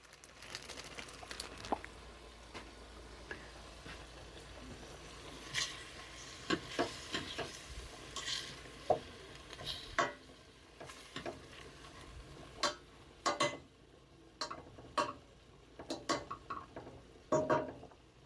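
Frozen onions cook in a pan with a soft, steady sizzle, broken by scattered scraping stirs and sharp clicks of a utensil against the pan.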